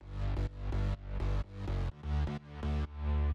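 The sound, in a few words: synth bass stack in an electronic track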